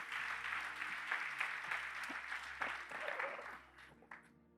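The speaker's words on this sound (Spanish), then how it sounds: "Denle un aplauso al Señor, aleluya." A church congregation applauding during a Spanish-language service, a warm wave of clapping from a fairly large room that stays steady and then tapers off and fades near the end.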